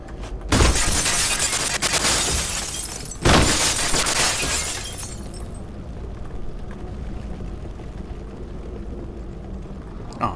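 Two loud crashing shatters of a glass floor giving way in Halo: Combat Evolved Anniversary, each a bright burst of breaking glass followed by a long fading crunch, then quieter ambient rumble with no voices.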